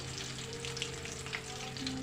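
Green chillies, curry leaves and dried chillies sizzle steadily in hot oil as a tempering for tamarind rice, with a continuous close crackle and faint steady hum, no talking.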